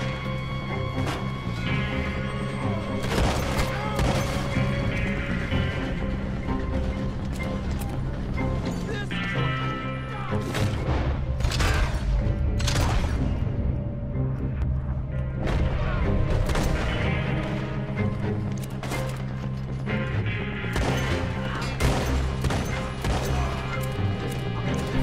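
Shotgun blasts ring out during a Red Dead Redemption 2 gunfight, loud booming shots repeated at irregular intervals over a dense game soundscape with a continuous tonal background.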